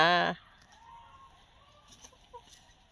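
A single loud chicken cluck at the start, then quiet background with faint distant chirps and small sounds.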